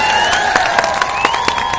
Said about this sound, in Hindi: आप नेपाल के नाम पर ताली बजाकर स्वागत